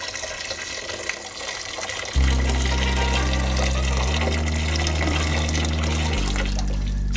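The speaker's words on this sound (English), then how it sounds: "so I pour on the hot water from the kettle" Hot water pours from a kettle onto sliced cow skin being cleaned, a steady close splashing, running-water wash with a low droning hum, no talk over it.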